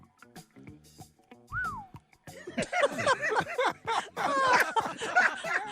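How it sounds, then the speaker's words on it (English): A short sliding whistle rises and dips after a few scattered clicks, followed by a busy burst of chirps, whistles and laughter-like snickers. "I like the whistle."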